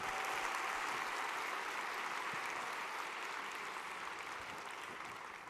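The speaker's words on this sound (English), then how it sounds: "Let's give them a round of applause for a job well done and for believing in Buffalo." Faint, steady applause from an audience at the 43North startup finals in Buffalo, honoring the non-finalists, a continuous clapping wash that slowly fades toward the end.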